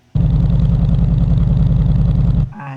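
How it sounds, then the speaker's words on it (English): A synthesized Harley Davidson motorcycle engine from a Krotos Igniter engine patch kicks in and holds a loud, steady idle with a pulsing low rumble, then cuts off abruptly near the end. "So let's load up the Harley Davidson."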